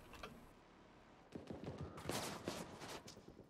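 An M16A2 rifle fires in The Division 2, with clustered sharp gunshot bursts rattling off after a quiet start, moderately loud and without talk.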